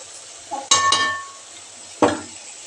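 A spoon stirs a cooking pot of Andhra-style veg biryani, giving a few sharp metallic clinks and scrapes close by over a soft sizzle.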